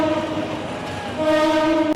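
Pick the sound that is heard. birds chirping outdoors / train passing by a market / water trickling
train passing by a market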